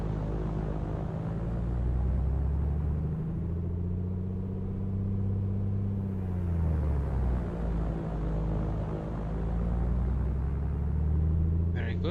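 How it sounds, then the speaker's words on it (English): A small propeller airplane's engine held at run-up power on the ground near the Grand Canyon, a steady loud droning rumble that rises and dips slightly around the middle as the propeller is cycled, with talk over it. "Cycle the prop to get the warm oil into the prop."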